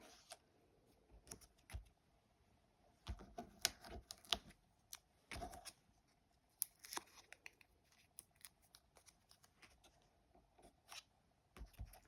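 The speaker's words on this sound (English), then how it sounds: "Always helps to take the paper off the back." Backing paper is peeled off an adhesive foam dimensional at a craft table, faint irregular crackles and small ticks coming in bursts over a quiet room, with no talking.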